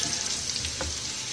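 Garlic and red chilies with a pinch of salt frying in hot oil for a tadka: a steady close sizzle throughout, with no talking.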